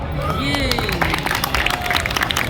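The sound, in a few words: audience applause at a magic show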